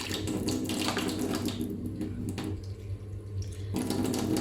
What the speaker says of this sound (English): we're going to add 1 3/4 cups of warm water to our singular egg yolk